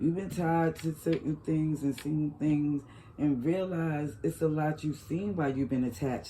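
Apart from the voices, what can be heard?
No everyday noises stand out.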